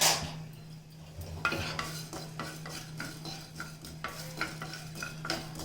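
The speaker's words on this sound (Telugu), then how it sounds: "గరం మసాలా లైట్గా వేయించుకుంటున్నాను." Garam masala spices stirred with a spoon in a pan as they lightly roast, giving soft scraping and scattered clinks of utensil on metal over a faint low hum, with no talking.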